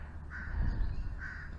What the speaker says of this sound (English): With all those crows in the background.